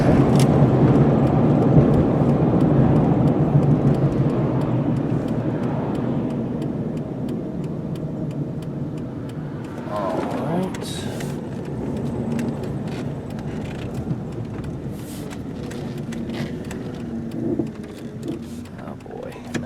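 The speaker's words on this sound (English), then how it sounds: "shifted up nice and smooth through the gears up to about 55 miles an hour here on our little road" A 1998 Ford Explorer XLT 4x4 driving along a small road and shifting up smoothly toward about 55 mph, a steady low engine and road drone heard from inside the cabin, with a brief rise around the middle.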